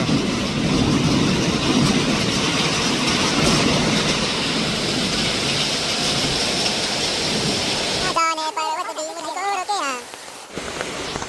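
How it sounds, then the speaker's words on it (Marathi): A hailstorm with heavy rain in Pune roars loudly and continuously for about eight seconds. It then gives way to a quieter background as a person speaks close by. "मित्रांनो, गारांचा पाऊस चालू आहे."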